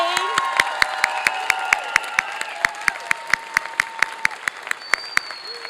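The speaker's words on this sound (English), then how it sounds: "Could we have another round of applause for those two" An audience at an ethnic studies commencement applauds the speakers, a dense bed of clapping with sharp regular claps close by and faint cheering mixed in, steady for several seconds.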